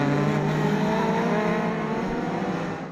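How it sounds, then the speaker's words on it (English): Race cars, ModSports and Legends at a Scottish Championship circuit, accelerate away after a safety-car restart, a loud, steady engine drone with a rising pitch that fades slightly toward the end. "And here we go for a restart, back underway, and Grant Hunter leads up the hill towards"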